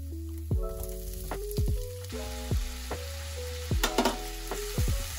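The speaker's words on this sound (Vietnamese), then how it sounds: "Mình dùng bơ thực vật để xào tôm trước." Shrimp and sliced garlic fry in margarine with a steady close sizzle, broken by several sharp clacks and stirring scrapes of a utensil against the pan.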